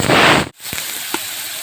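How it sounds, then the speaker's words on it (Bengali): Prawns go into hot oil in a kadai with a loud burst of hissing sizzle, then a short break and a quieter, steady frying hiss with an occasional pop. "চিংড়ি মাছ ভেজে"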